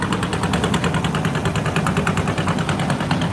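A trawler boat's engine chugs in a steady, rhythmic pulse as it pulls away from the Sadarghat launch terminal. The sound is loud and close, with no voices over it.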